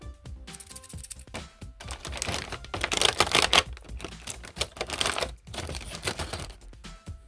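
Scissors snip a part from a plastic sprue in a KITT model car kit, giving clustered crisp clicks and cuts with faint rustling at close range and no speech.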